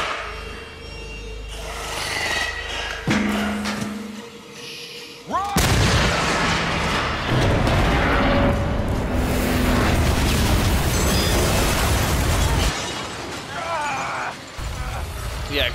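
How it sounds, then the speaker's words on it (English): Heavy booming blasts and crackling bursts from explosions in the game Until Dawn roll through, with rumbling debris and a person talking over parts of it. "Yeah, explosions."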